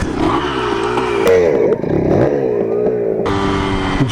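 A Kawasaki KE100 motorcycle engine revs up and down during wheelie practice, close and loud, with wavering throttle swells, a brief drop, then a rising rev at the end.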